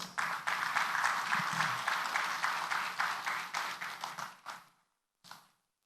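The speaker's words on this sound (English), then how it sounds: "let your applause be loudest" A summit audience gives a short round of applause that swells quickly, holds for several seconds, then thins and fades to silence before one last brief burst of claps.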